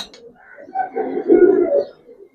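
Giribaz pigeons cooing, a male among them, a close, fairly loud rolling coo swelling in the middle and tapering off, with faint chirpy bits at the start.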